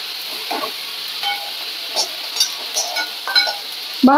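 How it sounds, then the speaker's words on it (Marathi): Chopped onions fry in a pan, a constant close hiss and sizzle broken by several soft scraping stirs and a sharper scrape at the end. "असं भाजू द्या ना त्याला. कांद्याला भाजायला वेळ लागतो."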